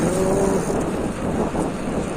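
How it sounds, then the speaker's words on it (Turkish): A car travelling on a rural road near a small village approaches and passes, a steady broadband engine and tyre rumble holding fairly loud throughout the short stretch with no talk. "Araba geliyor sağa."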